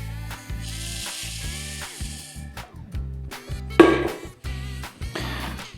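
Puffed rice tipped into a slightly cooled caramel mass and stirred, giving short crackling, rustling bursts over steady background music.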